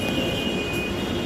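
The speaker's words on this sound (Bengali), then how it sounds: "মেট্রোলে করে আমরা আগারগাঁও যাব।" A metro rail train on the line toward Agargaon rumbles steadily up close, with a thin sustained high whine riding over the low running noise and no speech.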